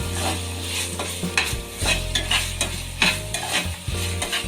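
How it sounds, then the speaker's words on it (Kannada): Ginger garlic paste sizzles and fries in a hot pan for jeera rice while a spoon stirs it, giving a steady soft crackle with repeated scraping strokes close by. "ಅಷ್ಟರೊಳಗೆ ಶುಂಠಿ ಬೆಳ್ಳುಳ್ಳಿನೂ ಕೂಡ ಫ್ರೈ ಆಗುತ್ತೆ"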